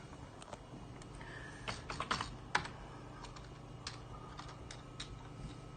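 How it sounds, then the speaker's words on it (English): Steady typing on a computer keyboard, with irregular clusters of close, crisp key clicks and a few louder taps, continuing throughout without talk. "So let's type in this."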